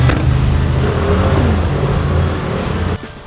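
A BMW M2 pulls away with a loud, close engine rumble that climbs slightly in pitch as it accelerates, then drops away near the end.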